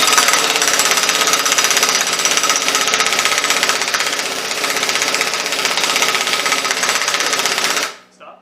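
An impact wrench hammers loose a nut on a 13B rotary engine during a teardown, a loud continuous rattling buzz lasting several seconds and then cutting off abruptly, with a brief faint sound after it stops.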